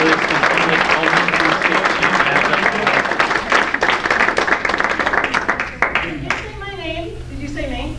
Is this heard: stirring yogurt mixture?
no